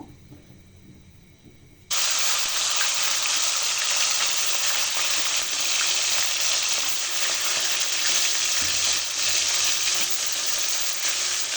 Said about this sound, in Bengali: চিকেনগুলো ভাজার জন্য কড়াইয়ে তেল গরম করে নিয়েছি। এখন চিকেনগুলো দিয়ে দিব।